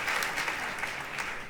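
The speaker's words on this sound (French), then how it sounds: "Je vous demande d'accueillir et d'applaudir Roch Olivier Mestre." An audience applauding at an awards ceremony in a theatre, a brief dense burst of clapping from many hands, fairly near and steady throughout.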